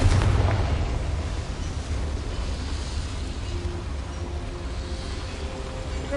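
A Confringo blasting spell in Hogwarts Legacy goes off with a heavy, booming explosion at the start, fading into a low rumbling tail.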